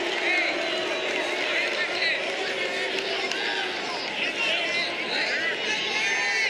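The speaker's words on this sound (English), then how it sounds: "The crowd getting fired up here." A college wrestling crowd at a Virginia versus NC State bout fills the arena with a steady roar of cheering and chatter. The noise is broad and sustained throughout, with a commentator talking over it.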